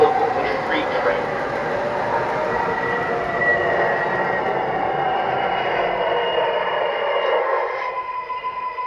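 MTH R142A model subway train set running with a steady electric hum and faint wheel squeal, under recorded onboard announcements.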